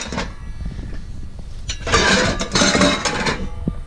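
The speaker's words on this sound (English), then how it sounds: "We got some more pots and pans." Secondhand pots, pans and lids from trash picking and auction pickups clank and clink together in bursts as they are handled, louder toward the end, with some faint background noise.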